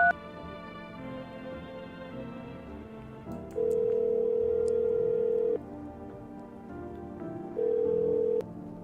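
A phone in a horror game plays a low synthetic drone, then two sustained steady beeps cut in, one long and one shorter, with faint clicks between; no voices.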